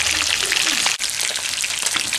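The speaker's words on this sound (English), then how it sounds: "Continued success on the frying" Fish for escovitch sizzles and crackles in hot oil, a dense, loud, continuous spitting hiss heard up close.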